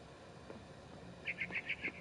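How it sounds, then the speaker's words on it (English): In the video game What Remains of Edith Finch, a barn swallow chirps five times in a quick, even run near the end. The bright, close calls stand out over a quiet, faintly hissing background with no talking. "Then I heard chirping outside my window. It was a barn swallow going back to her nest."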